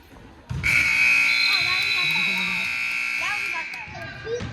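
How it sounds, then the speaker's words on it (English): A loud, sustained electronic buzzer at a youth sports game blares for about four seconds, steady and harsh, with crowd voices and shouts beneath it. "She doesn't like the buzzer."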